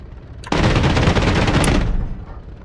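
A burst of rapid cannon fire from an aircraft's nose-mounted gun in a flight simulator game, starting abruptly, holding a loud dense rattle for about a second and a half, then tapering off.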